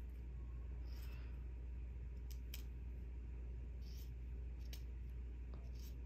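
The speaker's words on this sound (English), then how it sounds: "I'm just gonna trim it like that." A few short, crisp snips cut through a steady low rumble, sparse and irregular, close by with no talking.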